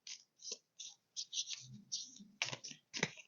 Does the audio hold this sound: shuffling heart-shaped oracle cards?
yes